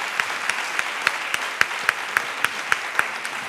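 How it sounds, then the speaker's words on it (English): An audience at a 2013 annual lecture with Edo State Governor Adams Oshiomhole applauds, a dense, even wash of clapping from a large hall with a few sharper nearby claps standing out in a steady rhythm. "I think he does deserve another round of applause"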